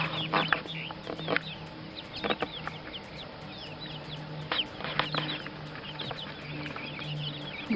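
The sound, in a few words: young chickens clucking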